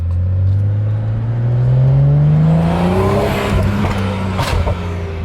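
A red car's engine revs up loudly nearby, then snaps and crackles with sharp exhaust pops as the revs fall away.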